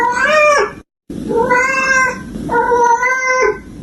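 A cat meows loudly three times close up, each cry long, drawn out and complaining, with a brief silent gap after the first.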